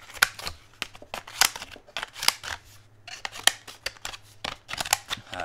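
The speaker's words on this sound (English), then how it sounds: "I'm pretty sure these cut pennies, which next I'm actually going to try." Leatherman Raptor shears snip at a penny in a quick series of sharp, close metallic cuts with brief pauses between them.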